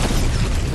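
Gunshot and explosion in a multiplayer shooter video game, a loud, dense booming blast filling under a second.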